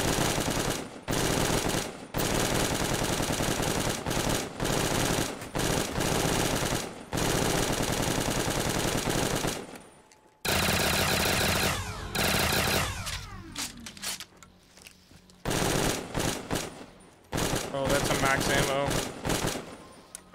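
Video game gunfire comes in long, loud automatic bursts separated by short gaps, then gives way to sparser single shots and quieter stretches.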